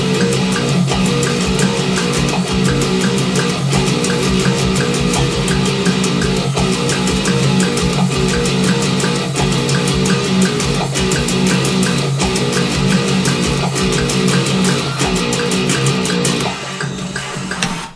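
A bass guitar plays a riff from a Doom Eternal cover, dense and rhythmic with steady repeated plucked notes, loud and continuous before thinning out near the end.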